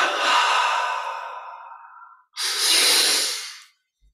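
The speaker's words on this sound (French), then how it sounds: "on double inspire, on contracte tous les muscles. Double expire, on relâche." A loud, close double breath in a guided breathing exercise: a long airy exhale fading out, a brief silence, then another strong breath rushing in, with no talking.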